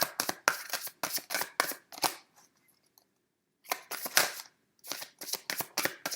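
Tarot cards are shuffled and handled in quick bursts of crisp riffling flicks, close and fairly loud, broken by a short near-silent gap before the brisk card handling resumes.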